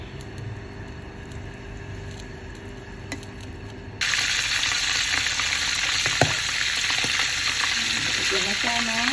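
Sponge gourd, miswa noodles and chicken mince balls sizzle and fry in a hot pan, a steady close hiss that jumps louder midway as ingredients go in, with occasional stirring scrapes.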